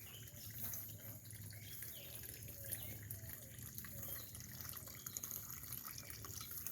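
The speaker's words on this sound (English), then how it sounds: "Fountains sound good." A garden fountain splashes and trickles continuously in a lush summer garden, soft and somewhat distant, with a steady watery patter and faint outdoor ambience.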